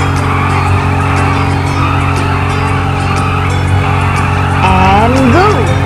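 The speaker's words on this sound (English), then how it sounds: "Engine on." A motorcycle engine idles and revs at the start of a stunt ramp challenge by a river, a loud, steady drone with a rising whine near the end.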